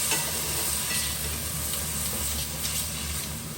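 Just pre-blanched rice noodles hitting a hot pan of vegetables, a steady loud hiss of frying that holds through the whole moment.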